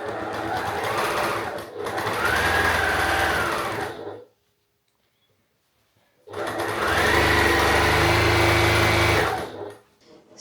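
A sewing machine runs quilting stitches through fabric for a vest, whirring steadily at close range in two long bursts separated by a couple of seconds of silence.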